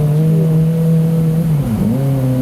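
A car engine revs loudly nearby in a steady, sustained drone, pitch briefly dipping near the end before rising again, with no talk over it.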